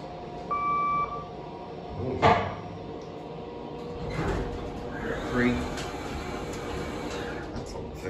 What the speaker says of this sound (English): That's a very loud door operator.